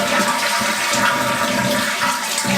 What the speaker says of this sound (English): Now we're going to drain the toilet out by just flushing it.